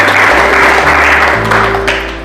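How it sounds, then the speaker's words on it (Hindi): Congregation applauding at a Hindi church Bible quiz, a dense steady wash of clapping under a low sustained organ or keyboard drone that shifts pitch, fairly loud and continuous. "ताली बजाकर प्रभु को महिमा दो।"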